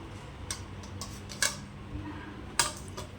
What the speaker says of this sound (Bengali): এখন রসুনটা আমি শিলে থেতো করে নেব।